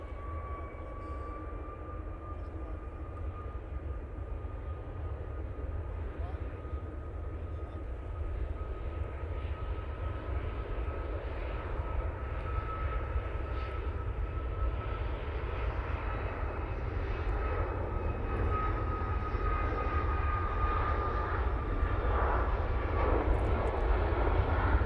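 An arriving Ryanair airliner at Manchester Airport, a steady broadband jet roar with a sustained engine whine, building gradually louder over the whole stretch.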